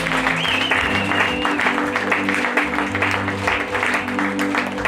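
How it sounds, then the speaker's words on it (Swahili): A church congregation claps during a Christmas service, a dense, sustained wash of applause from many hands that stays loud and even throughout. "Piga Bwana makofi."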